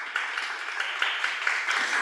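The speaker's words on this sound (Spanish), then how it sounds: "Dale un aplauso al Señor," A church congregation clapping together, a dense steady patter of many hands that continues briefly and evenly, moderately loud and close.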